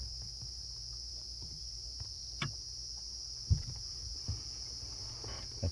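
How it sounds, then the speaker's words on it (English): A cicada on a safari drive gives a steady, high, unbroken buzz over a low rumble, with a few soft thumps and knocks nearby. "That's a cicada."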